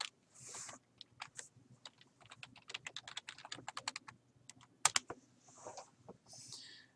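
Quick, irregular keystrokes on a computer keyboard as an email address is typed, a close run of light clicks with brief pauses between bursts.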